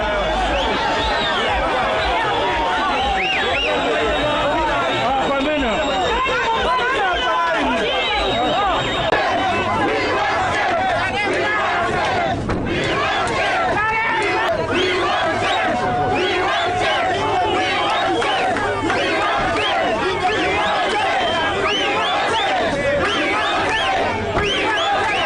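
A large crowd packs the streets outside a court after a bail hearing, a dense, continuous roar of shouting voices and chanting with rising cries, loud and close throughout.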